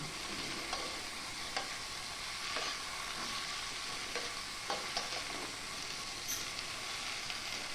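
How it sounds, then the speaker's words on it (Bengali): Pumpkin leaves and stalks being stirred in a hot pan for a vegetarian dalfela dish, giving a steady soft sizzle with a scattering of spatula scrapes and light clinks, close and without speech. "পাতাটাকে একটু নাড়িয়ে নিয়ে ওর মধ্যে স্বাদ মতন নুন দিয়ে দিলাম"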